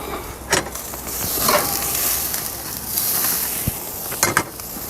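Carrots sizzle as they finish cooking in a pan for honey glazed pork chops, a steady bright frying hiss with a few louder crackling bursts and soft stirring clatter, no talk.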